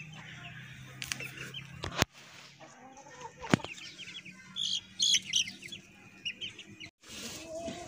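Chickens with their chicks settled in one spot at dusk, giving scattered clucks and high peeps at middling distance, with bird chirps and a couple of sharp knocks in the background.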